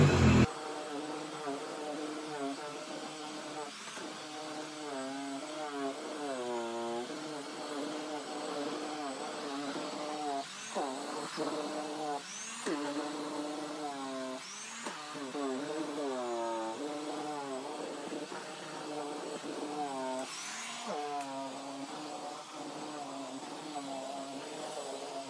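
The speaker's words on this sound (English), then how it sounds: "So I'm going to use my SIBO upright vacuum cleaner with the mechanical beater bar in the rug." A Sebo upright vacuum cleaner with a mechanical beater bar runs over a viscose rug, a steady loud motor drone with shifting whining tones as it is pushed back and forth, continuous throughout.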